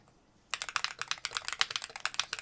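Fast typing on an MCHOSE ACE 68 Turbo Hall Effect mechanical keyboard: dense, rapid keystroke clicks start after a brief near-silent moment and continue steadily, close and crisp, with no talking.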